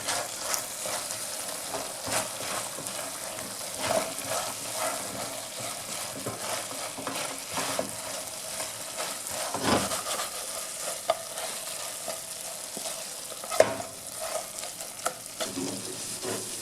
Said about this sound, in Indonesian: Masukkan ayam gorengnya dan aduk-aduk sampai semuanya tertutup saus gochujang dengan merata.